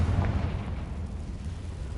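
A fiery Confringo blast spell in Hogwarts Legacy goes off as a loud, close explosive burst that rolls into a rumbling decay over about two seconds, with no talking.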